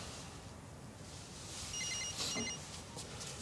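A mobile phone rings faintly in a domestic scene, a short high electronic ringtone pattern repeating briefly over a soft background hiss.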